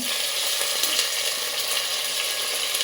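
Ginger-garlic paste hits a hot pan and sizzles hard, a dense, even hiss that stays close and loud for a couple of seconds with no talking.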